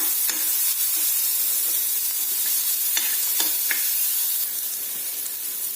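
Onion and garlic sauté in a pan over a low gas flame, giving a steady close sizzle with scattered ticks and scrapes of stirring and no talk.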